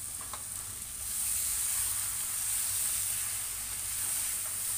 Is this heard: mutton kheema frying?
yes